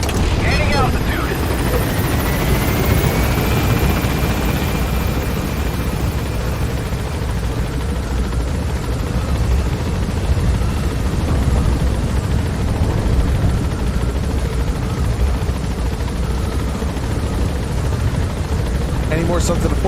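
A helicopter gains altitude in Metal Gear Solid 5, its steady loud rotor roar and engine whine filling the scene throughout, with a rising turbine tone early on and a constant low rumble.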